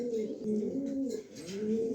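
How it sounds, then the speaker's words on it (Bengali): A pair of pigeons coo close by, soft rolling calls that rise and fall in repeated phrases across a brief moment, alone without talk. "দর্শক দেখেন এখানে এক পেয়ার কবুতর দিলাম"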